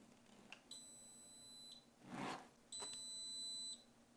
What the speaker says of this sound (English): That beep means your filament was read.